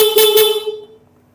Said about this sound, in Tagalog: Stock horn passing